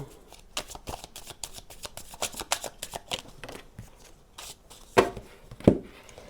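A 32-card deck of playing cards is shuffled in a series of quick riffling bursts, then cut with a couple of sharper slaps, close and fairly quiet with no talk.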